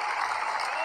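Short, even burst of crowd-style applause from an accessible tennis video game on Android, filling the moment alone.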